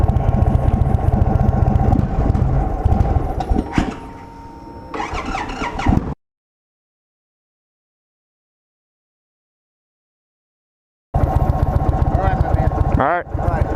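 A 2023 Indian Sport Chief motorcycle engine runs loud and close with a rough, throbbing rumble, breaks off into a stretch of silence, then returns; voices are heard around it.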